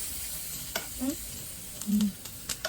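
Spicy Korean noodles with seasoning fry in a pan in a home kitchen, giving a soft continuous sizzle punctuated by several brief stirring scrapes and clicks, close by and moderately quiet.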